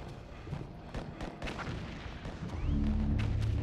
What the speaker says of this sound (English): that was just random gunfire outside